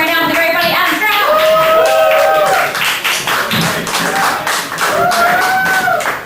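A stand-up comedy audience claps loudly and steadily as a comic takes the stage, with cheering voices and whoops rising over the applause.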